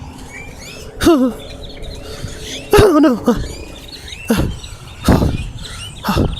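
Birds at a station give sharp, loud calls in several separate bursts over quiet background noise, with a person briefly speaking.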